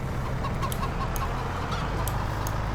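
Chickens cluck steadily in Farming Simulator 22, a dense, continuous flock murmur with soft repeated clucks over a constant farmyard background, no talking.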